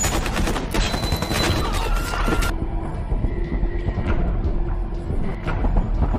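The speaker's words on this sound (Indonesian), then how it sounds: "Lalu kedua geng ini saling beradu tembakan." Gunfire traded between two gangs inside a bar in a film scene: rapid, overlapping loud shots crackle densely at first, then cut abruptly to a quieter stretch with scattered reports and a lingering ringing tone.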